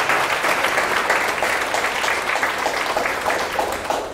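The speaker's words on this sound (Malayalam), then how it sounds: "നമുക്ക് ഒന്ന് എല്ലാവരും കൈയടിച്ച് ആദ്യം നന്ദി." A church congregation at a charismatic prayer gathering breaks into steady, dense applause, loud and sustained throughout, with no talking over it.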